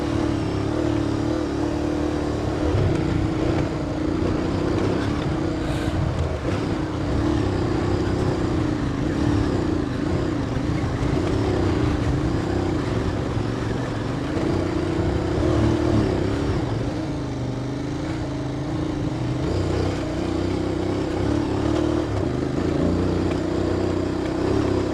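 An adventure motorcycle climbs a snowy mountain pass in first gear at about 3000 metres, its engine droning steadily and loudly throughout with fluctuating revs as the tyres scrabble for grip.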